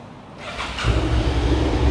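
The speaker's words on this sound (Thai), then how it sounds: "คันนี้ยังคงเป็นท่อเดิมครับมาฟังเสียงท่อคันนี้กัน" A 2024 Suzuki SV650 motorcycle with its stock exhaust is started up close: a short quiet crank, then the engine catches and settles into a loud, steady, low rumbling idle.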